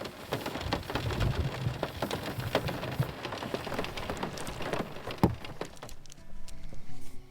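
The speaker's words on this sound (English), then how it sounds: "It was very rainy last night. It was non-stop. It was quite loud on the sunroof" Heavy non-stop rain drums on the sunroof of a small microcamper car at night, a dense loud patter with sharper drops hitting the glass, easing slightly near the end, no voices.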